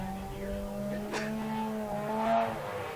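A Subaru BRZ drift car, naturally aspirated, slides through a horseshoe hairpin at a drift competition, its engine note rising and falling with tire squeal, heard from a distance with faint talk underneath.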